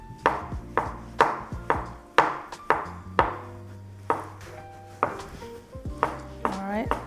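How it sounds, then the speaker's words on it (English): A knife slices mushrooms on a cutting board in a home kitchen, about a dozen crisp, evenly paced chops heard close up, with no one speaking. "And slice the mushroom next."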